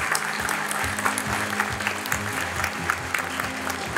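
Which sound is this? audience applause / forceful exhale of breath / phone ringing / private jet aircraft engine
audience applause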